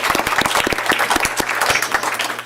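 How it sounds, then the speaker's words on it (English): Close, lively applause at a Torrance school district board meeting, individual hand claps standing out sharply against the crowd for a couple of seconds, with a steady low hum underneath. "Let's give her a round of applause"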